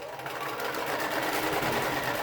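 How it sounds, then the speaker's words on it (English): A sewing machine stitches fabric with a steady, continuous whirring hum and fast needle rhythm, close and loud, with no talk. "drop my presser foot, and then just continue sewing."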